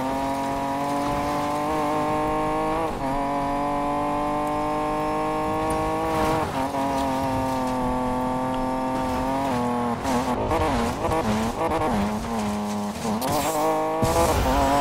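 In Need for Speed Payback, a maxed-out drag car engine drones with a buzzy, nasal whine, holding a steady pitch and then wobbling and sputtering unevenly near the end, loud and continuous with no voices.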